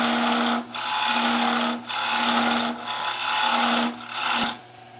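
Wood lathe spinning a long, thin stem far out from the chuck, giving a steady raspy rubbing drone broken by four short dips as the tool lifts off, with a constant low hum throughout.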